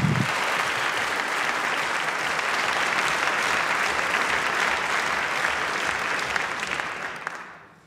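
An audience in a legislative chamber at a State of the State address claps in sustained, dense applause, loud and steady throughout before tapering off near the end; no talk over it.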